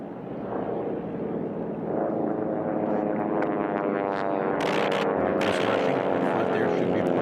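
A loud, sustained engine roar rises and holds at close range as racing aircraft fly past at the Reno air races, with a commentator talking over the noise.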